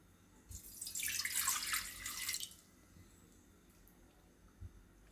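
About one and a half cups of water poured into a cooking pot on a gas stove while making Rajwadi dhokli shaak: a single steady rushing splash lasting about two seconds, close and clear, followed by quiet kitchen room tone with no talking.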